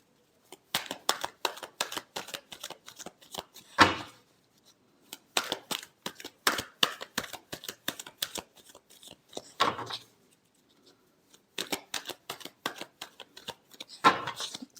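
Tarot cards riffle-shuffled in three quick bursts of papery flutter, each ending in a sharp snap as the deck is squared, with short quiet pauses between.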